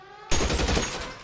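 A Tommy gun in the video game L.A. Noire rips off one sustained, loud, close burst of automatic fire that starts abruptly after a quiet moment, with no voice over it.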